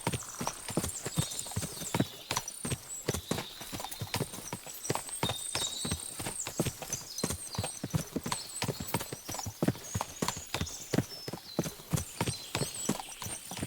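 Many horses' hooves clip-clopping in Kingdom Come Deliverance 2, a dense, rhythmic run of hoofbeats close by that lasts throughout, with occasional whinnies and no talk.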